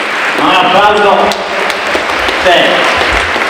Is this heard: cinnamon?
no